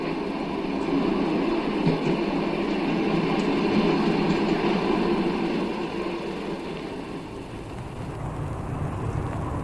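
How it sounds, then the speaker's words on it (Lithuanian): A train slowing as it arrives in Kaunas, producing a continuous low rumble and rolling rattle of railcars, steady and fairly loud throughout with no voices. "Reikia, kad sustotų, traukinys."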